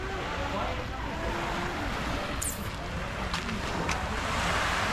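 Steady roar of sea waves washing onto Cabongaoan Beach in Burgos, Pangasinan, with wind buffeting the microphone throughout and no clear breaks.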